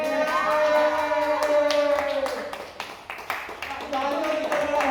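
Applause breaks out for the winner of a housie game at Hariyog, with scattered hand claps over a steady tone and a crowd talking in the background.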